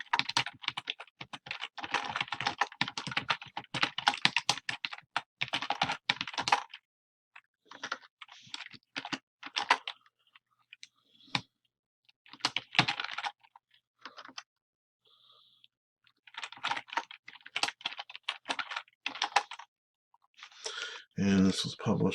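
Rapid typing on a computer keyboard comes in bursts of close, crisp key clicks separated by short pauses, fairly quiet overall.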